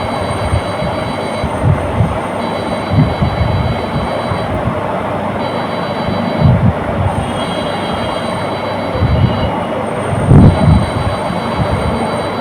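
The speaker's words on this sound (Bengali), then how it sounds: "এভাবে কুচি দিয়ে দিয়ে দিয়ে সেলাই করে নিচ্ছি" A sewing machine stitches gathered pleats into pillow fabric. Its steady mechanical whir is loud and close, with periodic soft thumps, and there is no talking.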